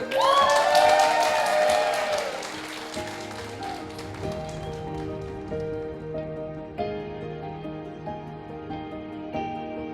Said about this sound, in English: A round of applause for the beautiful bride